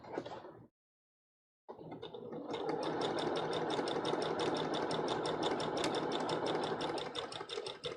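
A home sewing machine stitches steadily with its bobbin, a close, even, rapid mechanical whirr that runs alone for several seconds after a brief opening burst and a short silence.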